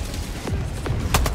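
Several loud gun blasts from a weapon in the video game Helldivers 2, fired in quick succession over constant battle noise, with sharp cracks near the end.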